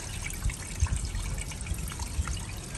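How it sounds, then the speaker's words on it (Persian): Water running and splashing into a pot of rice during washing for restaurant-style chelo, a steady trickle with soft gushes, close and alone. "دوباره آبو پر میکنیم روی برنجمون"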